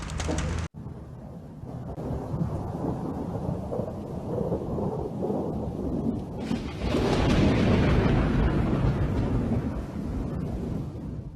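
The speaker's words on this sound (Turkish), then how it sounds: "Akşam saatlerinde gök gürültüsü eşliğinde şiddetli yağış başladı." A sharp crack of thunder gives way to heavy, steady rain pouring down, growing louder and denser partway through.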